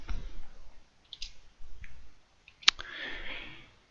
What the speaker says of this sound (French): J'appuie sur la touche, donc la fameuse touche chapeau, et ensuite le nombre 3